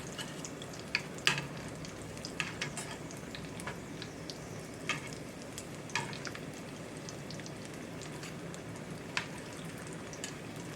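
Crappie fillets and hush puppies frying in hot oil, a steady low crackling bubble with scattered sharper pops and spits throughout, fairly faint and close, no voices.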